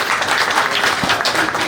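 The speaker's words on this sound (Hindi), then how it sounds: "सभी साथी जो बैठे हैं जोर से तालियां बजाएं" A seated audience at a school farewell for a retiring Hindi lecturer claps loudly and densely, a close, continuous burst of many hands.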